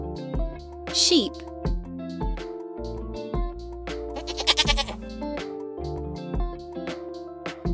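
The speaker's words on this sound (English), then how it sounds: "Sheep." Sheep bleating on a farm, several distinct bleats rising and falling over a steady musical backing, the calls loud and close.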